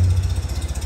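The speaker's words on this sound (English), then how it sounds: "I love the little pitter-patter of that four-cylinder." A 1930 Model A truck's four-cylinder engine idles close by with a steady low, pulsing putter, even and unhurried throughout, with no voices over it.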